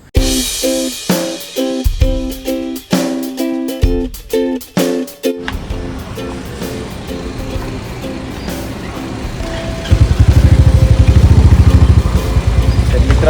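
A motorcycle engine is brought in and parked outside a restaurant. Rhythmic music-like pulses come first, then a louder, steady engine rumble swells over the final few seconds.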